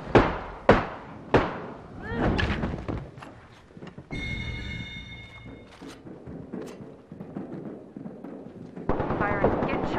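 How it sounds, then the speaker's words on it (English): Video game gunfire opens with a few loud, sharp shots and then gives way to rougher bursts and thuds of shooting and rattling weapon sounds, with a voice talking in stretches. "Firing. Getting shot at. Reloading."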